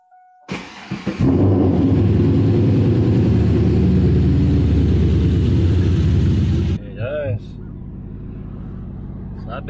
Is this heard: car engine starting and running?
yes